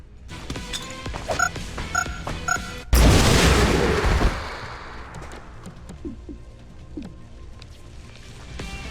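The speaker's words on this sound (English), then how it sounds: "So, plasma grenade." A plasma grenade blast in the XCOM: Chimera Squad video game, a sudden loud broadband boom that erupts after some light game sounds and rumbles for over a second before decaying into quieter ambient effects.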